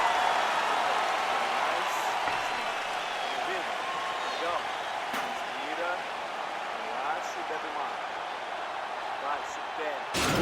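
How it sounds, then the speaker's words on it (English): A broad, steady roar from the arena crowd fills a UFC 4 video game bout between rounds and carries under a commentator's voice for the whole stretch. "So the crowd voicing its appreciation after that round."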